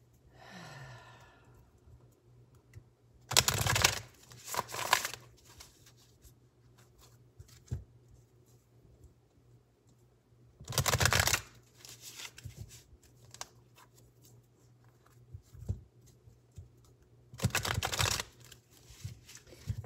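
Oracle cards being shuffled by hand, with three separate loud bursts of riffling and slapping cards in a quiet room, fainter rustles between them.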